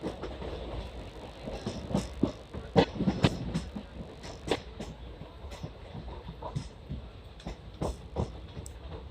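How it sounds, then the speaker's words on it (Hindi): A Lucknow Metro train runs along an elevated track overhead, its wheels clattering rhythmically over rail joints in a steady rumbling pass heard from below. "आप देख सकते हो लखनऊ मेट्रो हमारे कैमरे के सामने ऊपर से जा रही है।"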